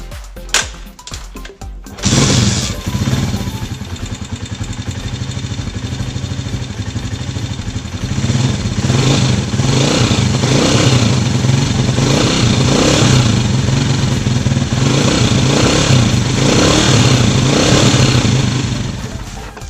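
A motorcycle engine starts after a few clattering knocks, then runs loudly nearby with repeated revs rising and falling, just after a tune-up.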